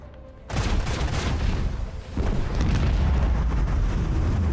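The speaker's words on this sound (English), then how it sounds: "Oh, they both died from explosion." Explosions in Warhammer 40K: Rogue Trader burst in loud and sudden after a quiet moment, then a second booming wave follows, leaving a thick rumbling roar that fills the rest of the stretch.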